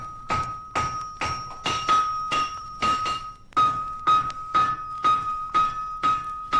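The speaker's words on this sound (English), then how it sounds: "Then he'll start to shape the shoe on the anvil." A blacksmith hammers a horseshoe on an anvil, striking about a dozen ringing, metallic blows in a steady rhythm, each hit close and loud with a bright lingering ping.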